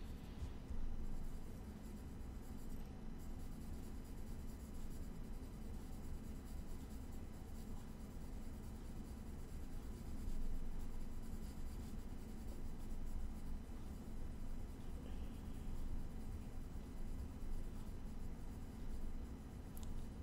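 Soft, continuous scratching of a graphite pencil moving across paper, close and steady with slight variations in pressure, no talking.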